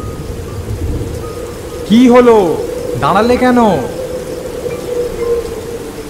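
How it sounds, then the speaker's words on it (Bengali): Heavy rain pours during a stormy night with thunder, a loud, steady wash of noise that continues under a person speaking. "আরে এত বৃষ্টি আর বজ্রপাতের মধ্যে পথ হাঁটবে না"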